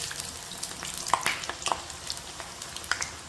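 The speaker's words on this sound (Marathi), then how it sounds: "तर मीडियम फ्लेमवरती या पद्धतीने सर्व आपण तळून घ्यायचं" Mathri snacks deep-fry in oil on a medium flame, giving a soft, continuous bubbling sizzle dotted with small pops and crackles, close but fairly quiet. No one speaks.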